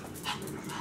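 A dog lets out a brief, close burst of breathy panting or whimpering, heard alone for under a second.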